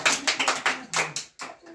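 Children clap their hands at a school prize ceremony in a quick burst of about eight sharp claps, close and uneven, ending with a short pause and a few trailing claps.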